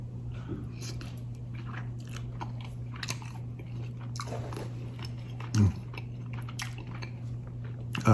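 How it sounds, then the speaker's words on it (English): Close, wet biting and chewing of pressure-cooked oxtail, with soft crunchy and squishy mouth sounds over a steady low hum, and a couple of sharper bites near the middle and end. "Let's see what this oxtail tastes like."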